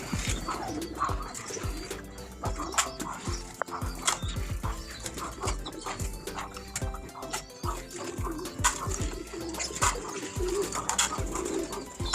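Pigeons in a loft coo steadily up close, several birds overlapping in low rolling calls, with scattered flutters and light knocks of movement around them.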